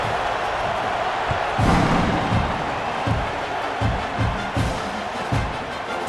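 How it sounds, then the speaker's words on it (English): A stadium crowd in EA Sports College Football 26 keeps up a steady, loud buzz through a kickoff after a score, with a few thumping swells rising out of the noise. "this crowd is buzzing after that last score"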